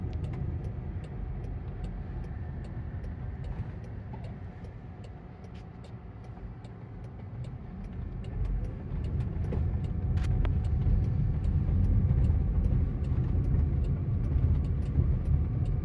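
A Waymo self-driving car rolls through a large traffic circle in San Francisco, heard from inside as a steady low road rumble and tyre noise that swells louder midway, with faint ticking throughout.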